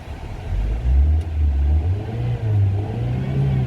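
A 1985 Honda Accord Executive engine rumbles and revs up and down nearby, a deep throaty drone rising and falling.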